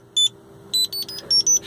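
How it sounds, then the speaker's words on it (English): A taxi car's electronic beep buzzer sounds in a series of short, high, close tones, one then several quick beeps in an uneven rhythm over a faint low hum. "He put the beep on, I'll turn it off"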